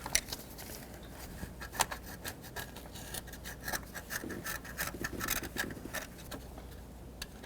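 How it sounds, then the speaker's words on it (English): A screwdriver scrapes debris off the thermostat sealing surface on a 2005-2010 Pontiac G6 during a water pump replacement, giving a run of close, irregular gritty scratches and rasping strokes with small clicks. "I'm going to take a screwdriver and just scrape a little bit of this debris off of here"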